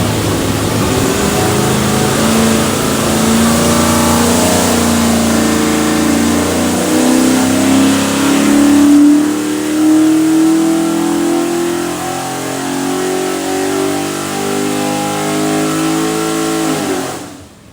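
A stacked 347 Ford V8 on a dyno, running a Holley Terminator X fuel system, revs hard and loud in a sustained pull, its pitch climbing steadily before cutting off sharply at the end.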